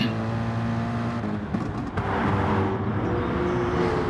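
Several race cars in a sim racing game replay at Autodrome Maggiore roar together through a corner onto the start-finish straight, engines revving and shifting up, loud and close with overlapping whining tones and no talk.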